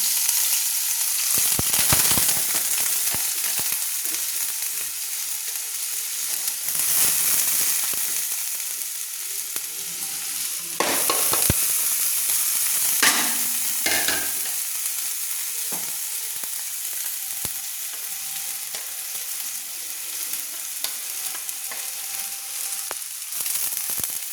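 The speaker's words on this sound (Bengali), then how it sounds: "তো আমি মুগ ডালটাকে প্রথমে ভেজে নেব।" Mung dal frying in smoking-hot oil in a wok, stirred repeatedly: a loud, steady sizzle with bursts of scraping and louder crackling as the lentils are turned, and no voices.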